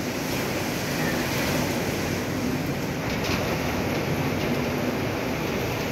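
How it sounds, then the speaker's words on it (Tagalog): Gusty typhoon wind sweeps through Legazpi City during Typhoon Uwan, a steady, dense roar of rushing air with faint swells and no voices. "Medyo lumakas yung hampas ng hangin dito sa amin sa Legazpi City."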